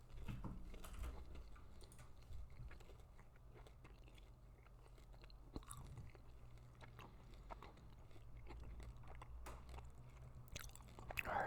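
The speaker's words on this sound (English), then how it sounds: "going to be chewing some peppermint" Close, quiet chewing of a stick of peppermint Dentyne Ice gum, soft wet clicks and squishes mixed with light keyboard tapping, steady throughout a low hushed background.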